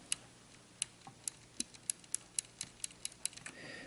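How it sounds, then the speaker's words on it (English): Blue-switch mechanical keyboard keys clicking one at a time, about a dozen sharp, evenly spaced clicks with a bump-and-click character, close and alone against a quiet background. "the blue switch, the popular one, basically is the bump plus the clicky sound"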